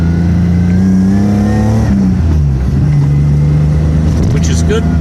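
A BMW E30 with an M30B35 engine accelerates from inside the car, the engine note climbing through a gear change with loud constant cabin roar; speech registers faintly beneath.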